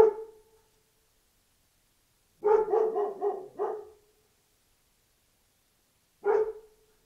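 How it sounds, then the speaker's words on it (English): A dog barks close by: one bark, then a quick run of four or five, then a single bark after a pause, silence between. "Roscoe, stop barking"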